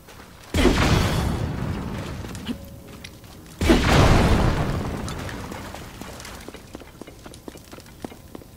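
Two heavy cannon shots boom in Zelda: Tears of the Kingdom, each a loud blast that rolls off into a long fading rumble, with faint mechanical clicks between and after.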